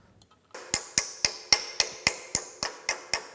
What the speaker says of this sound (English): This brass hammer is softer than the material I'm hammering on, so it shouldn't damage it.